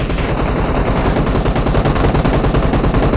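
Rapid automatic gunfire in the mobile game PUBG Mobile, a dense, loud burst of rhythmic shots running continuously for several seconds without pauses.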